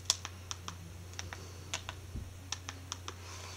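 Someone types a password on a keyboard, giving about fifteen faint, irregular key clicks over a steady low hum in a quiet room.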